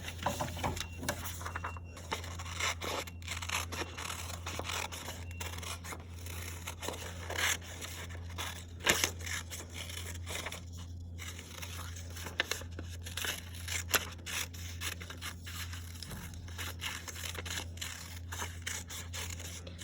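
Scissors snip through paper in a craft session, with repeated crisp cutting and rustling over about twenty seconds against a steady low electrical hum; no talking.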